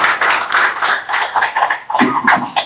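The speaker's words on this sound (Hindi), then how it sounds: "तालियां चालू रहनी चाहिए भाई।" Audience clapping at a student skills seminar: close, uneven claps from a small group with a loose rhythm, a short dip, then a renewed burst.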